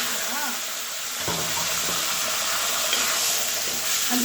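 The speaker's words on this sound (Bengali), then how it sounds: "মরিচ ভাজা হয়ে গেছে, তেল গরম হয়ে গেছে।" Chilies frying in hot oil, making a steady close hiss and crackle with a few clinks of a utensil, while a person talks over it.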